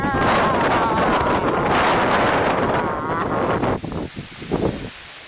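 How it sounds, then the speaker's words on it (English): Strong wind roars steadily into the microphone, buffeting it with gusts before easing into lighter, choppier rustling near the end. "It's so windy."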